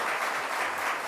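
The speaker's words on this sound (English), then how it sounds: "Let's give a round of applause to everyone in this room" Dense, even applause fills a room at a youth mental health announcement, many hands clapping steadily and fairly loud without a break.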